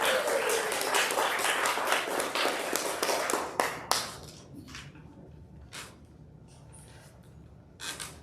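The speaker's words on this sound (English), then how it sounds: "let's give a round of applause." Applause from a small audience for a guest speaker walking up, dense clapping at first, then thinning to a few scattered, close claps before fading.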